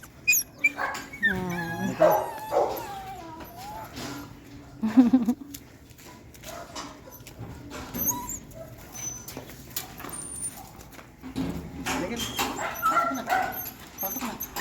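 Several pet dogs bark and whimper in bursts at a home while someone speaks Tagalog over them, the yelps sharp and close, with quieter stretches between.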